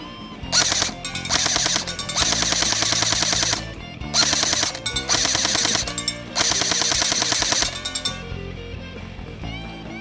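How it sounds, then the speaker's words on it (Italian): Airsoft M4 replica rifle firing in long full-auto bursts, rapid mechanical rattling strings separated by short pauses, close and loud with no talking. "E ora ragazzi, prove di tiro."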